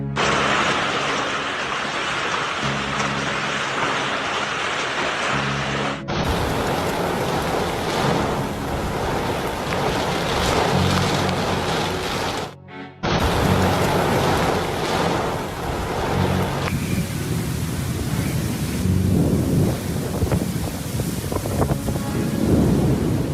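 Heavy rain pours during a thunderstorm in Mecca, a dense, loud, continuous roar of water with wind buffeting and a rumbling surge, briefly cut off midway.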